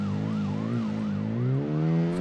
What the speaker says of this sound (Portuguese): Eu tô escutando outra sirene pra cá pra cima.